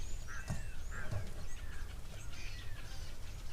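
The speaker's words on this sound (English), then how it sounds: "We've got some beautiful starlings in picture as well, flying past." Starlings calling at a waterhole, a mix of whistles, chatters and harsher squawks at moderate distance over a constant outdoor background hiss.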